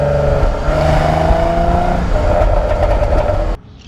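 Jaguar F-Type convertible engine revving loudly and steadily, the pitch climbing and holding for about three and a half seconds before cutting off abruptly.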